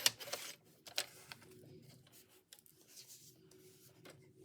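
Paper being cut for a handmade Santa craft tag, a few sharp rasping snips at the start and then soft, quiet rubbing and handling noises, close up with no talking.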